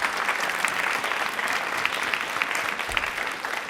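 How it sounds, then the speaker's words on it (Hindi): An audience at a Hindi-language quiz event on government welfare schemes breaks into a brief burst of clapping, a dense crackle of many hands held at an even level for a few seconds, with no speech. "तालियां प्लीज एक बार जोरदार हो जाए।"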